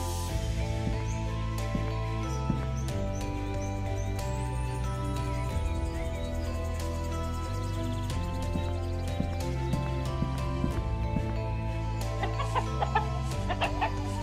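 Chickens cluck repeatedly in a palace yard, several short calls scattered across the clip over a steady, looping musical background with a low, stepping bass line.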